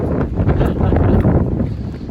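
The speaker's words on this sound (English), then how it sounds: "that wind coming off that lake is windy" Strong wind coming off a lake buffets the microphone with a loud, rumbling roar that gusts unevenly throughout, with no voices.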